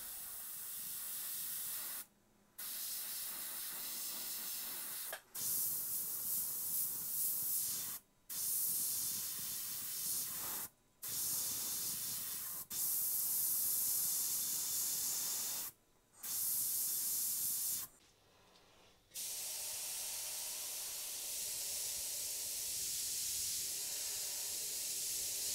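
An airbrush sprays pink paint in short and long bursts, each a close, steady hiss broken by brief pauses.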